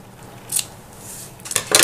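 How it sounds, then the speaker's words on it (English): Scissors snip off the excess ribbon on a handmade summer-themed envelope mini album, giving a few short, crisp cuts close by, with a quick snip midway and a tight cluster of snips at the end. "And then I use my scissors and I trim off the excess."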